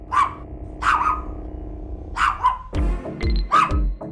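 A dog barks loudly and close by in repeated sharp bursts, mixed with yips and a low growling whine between the barks.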